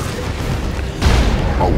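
A heavy cannon in the strategy game Dawn of War 2 goes off with a deep boom midway, amid battle noise and ongoing commentary talk.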